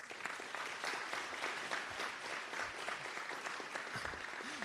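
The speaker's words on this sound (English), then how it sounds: "Give another round of applause for our Food Security Coordinator, Sue Weissman." Dense, steady applause from an audience at a Feeding Westchester event, honoring a food security coordinator; the clapping stays full and even throughout with no one speaking over it.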